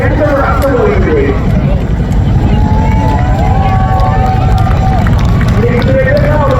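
An RAF Chinook twin-rotor helicopter flies a display at the Southport Airshow, a loud, continuous heavy rotor roar and rumble with an outdoor crowd murmuring and a voice speaking underneath.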